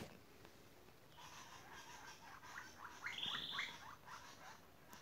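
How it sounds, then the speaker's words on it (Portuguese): A chalk-browed mockingbird (sabiá-do-campo) sings outdoors in nature, a bright burst of varied warbled phrases rising in the middle, moderately near, over a soft hiss of background ambience. "Essa ave tem um canto muito bonito que eu aprecio muito, que é a sabiá."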